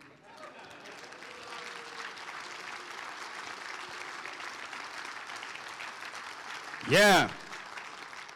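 An audience applauding at a real estate valuation talk, a steady, moderately distant wash of clapping that runs throughout, broken near the end by a brief loud voice close to the microphone.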